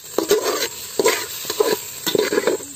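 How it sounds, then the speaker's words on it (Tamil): Finely chopped garlic sautéing in hot oil in a pan, steady sizzling broken by four rhythmic stirring scrapes about half a second apart, close and fairly loud. "எண்ணெய் ஊத்திக்கிறேன் நானு. சேர்த்துக்கிறேன் பொடி பொடியா நறுக்கின பூண்டு"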